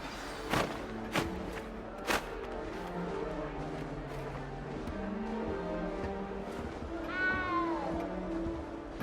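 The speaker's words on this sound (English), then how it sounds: "Don't need to be frightened, little cat." A small cat in Hogwarts Legacy: a few soft thumps early on, then a single clear, rising-and-falling meow near the end over steady game ambience.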